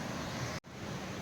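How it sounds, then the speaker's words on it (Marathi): Steady, broadband rushing water fills the clip, a constant roar of a hidden waterfall in dense Sahyadri forest, broken by a brief dropout in the middle. "धबधब्याचा आवाज आहे"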